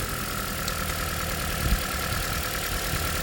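A car engine idles close by with a steady, even drone during misfire diagnosis, showing only a slight bump in the middle.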